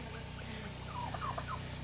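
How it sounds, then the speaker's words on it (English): Turkeys gobble in a farmyard, a quick warbling burst of calls at moderate distance over a constant low mechanical hum. "got some turkeys"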